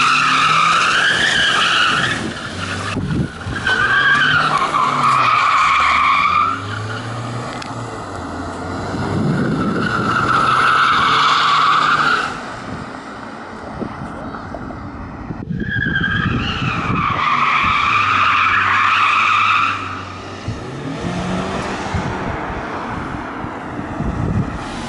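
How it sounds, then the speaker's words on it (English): 2015 Ford Mustang EcoBoost drifting in a parking lot, tires squealing loudly in long skids over a revving engine, with wind buffeting the microphone and two main slides separated by a brief lull. "let's get us like two drifts"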